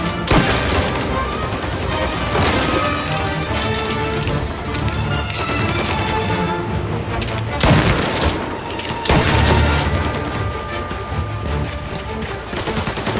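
Rapid Tommy gun bursts and gunfire in Mafia Definitive Edition, dense loud rattling volleys with booming hits, continuous over a busy game battle with voices mixed in.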